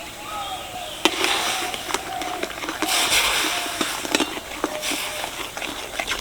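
Semolina being stirred into beetroot juice in a pan for beetroot barfi, heard as a steady run of soft scraping and clinking strokes, with sharper spoon-on-pan knocks scattered through.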